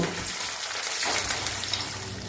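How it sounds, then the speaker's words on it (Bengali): Chopped coconut fries in hot mustard oil, a soft steady sizzle and hiss heard close but fairly quiet, with no talk over it. "এবার এই তেলের মধ্যে প্রথমেই আমি একটু নারকেল কুচি ভেজে নেব"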